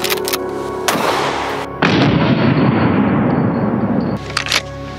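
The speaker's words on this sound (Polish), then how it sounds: "Słuchajcie, strzelimy sobie ze strzelby, użyjemy loftki." Shotgun loaded with buckshot fired at a padlock outdoors, a few sharp, very loud blasts with long booming decay filling the clip, no speech.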